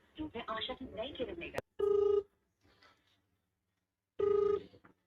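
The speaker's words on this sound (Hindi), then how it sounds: "उसको मैं अभी फोन कर रहा हूँ" Two bursts of a phone ringback tone, each about half a second, with a pause between, following a stretch of speech.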